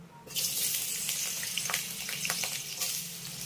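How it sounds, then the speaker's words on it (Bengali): Potatoes fry in hot oil in a wok over a medium-low flame, giving a loud, continuous hiss that starts abruptly and carries on with light crackles. "এবার মিডিয়াম লো ফ্লেমে আমি এই আলুগুলোকে খুব সুন্দর লাল লাল করে ভেজে নেব"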